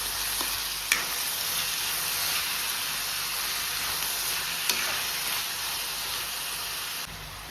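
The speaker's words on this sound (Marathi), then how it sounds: "बरें तें बी आतां तळसून घेता." Tomatoes frying with browned onions in a pan for a Goan clam sukha, a steady soft sizzle with a couple of faint stirring clinks, no voices.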